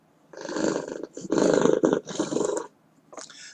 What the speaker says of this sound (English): I gotta have a cat purr.